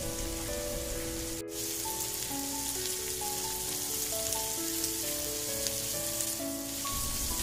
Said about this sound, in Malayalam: ഇപ്പം ബ്രൊക്കോളി ഒന്ന് ഫ്രൈ ആയി വരുന്നുണ്ട്.